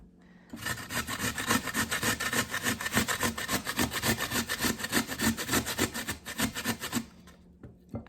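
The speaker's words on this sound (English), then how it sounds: "Let's grate up these potatoes though" Potatoes scraped across a kitchen grater give a fast, even series of rasping strokes, close and fairly loud, lasting about six seconds before stopping.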